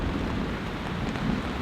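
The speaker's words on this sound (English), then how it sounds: "there's a thunderstorm out there somewhere" Outdoors at a rain camp, a steady, dense roar of wind and rain fills the air without pause, with a distant thunderstorm rumbling low underneath.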